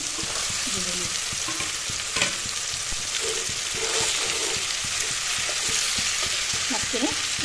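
Fish and tomatoes fry together in a pan for a fish curry: a steady, close sizzle runs throughout, broken by scraping stirs and light taps of a spatula against the pan.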